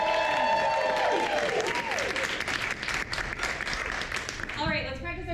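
An improv show audience claps together in a dense, steady burst of applause that fills the room, with voices and shouts mixed in under the clapping.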